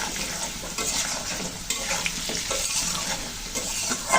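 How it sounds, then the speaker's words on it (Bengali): Potatoes frying with a pinch of turmeric, cumin and bay leaf in a pan, a steady close sizzle with stirring and scraping scrapes throughout, no talking. "সামান্য একটু হলুদ দিয়ে আলুগুলো একটু ভালো করে ভেজে নেব।"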